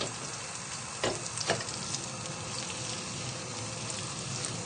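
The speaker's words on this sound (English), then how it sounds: "By swirling the butter around the pan, it also stops the butter from burning and speeds up the melting process" Butter swirls and melts in a hot pan for a turkey curry, giving a steady, soft sizzle throughout, with a couple of brief clinks from the pan near the start.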